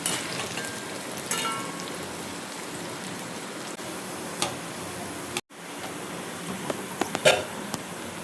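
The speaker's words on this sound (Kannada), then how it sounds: "ನಾವಾಗ ಹಚ್ಕೊಂಡಿದ್ದದ್ದು ಆನಿಯನನ್ನು ಈಗ ಫ್ರೈ ಮಾಡುವ" Chopped onions frying in oil for chicken biryani, a steady soft crackle with scattered pops and ticks, a brief dropout partway through.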